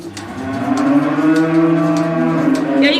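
A cow on a farm gives one long, loud, close moo that holds steady for about three seconds, with no other sounds over it.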